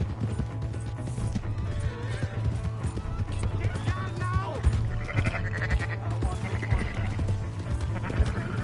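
A horse whinnies and hooves clip-clop in the Western video game Red Dead Redemption 2, with the neighing rising over steady hoofbeats while characters talk over the action.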